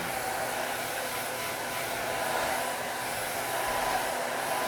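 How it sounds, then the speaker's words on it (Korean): A hair dryer blows steadily and loudly at close range, drying hair in one continuous, unbroken rush of air with no pauses. "머리를 이렇게 말릴 때 반대로 말려."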